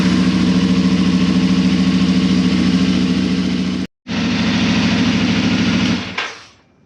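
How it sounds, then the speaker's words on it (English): A CFmoto 450 MT motorcycle engine idles steadily and close by, a loud, even mechanical thrum that cuts out briefly near the middle, resumes, then fades away at the end. "I'll start the bike up actually"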